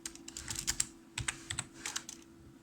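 Fingers tap out a short burst of keystrokes on a computer keyboard, close and crisp, in uneven quick clicks over a low electrical hum, with no talking.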